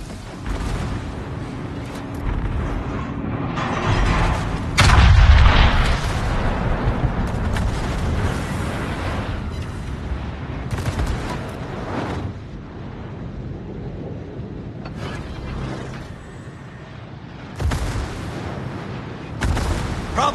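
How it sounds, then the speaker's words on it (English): Naval artillery fire in a warship video game, heavy booming blasts over a continuous rumbling battle din, with one especially loud low impact early on and several more bursts scattered through the long stretch. "All stations, requesting fire on the designated target."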